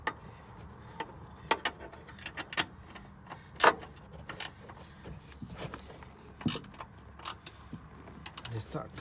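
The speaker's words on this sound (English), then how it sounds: "Just start tightening it with the gear wrench" A gear wrench ratchets while tightening a coilover on a first-generation Scion tC, giving faint, scattered clicking ticks, some louder, spread irregularly over a quiet garage background.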